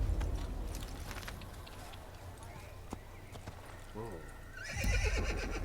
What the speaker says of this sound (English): Quero esse cavalo branco.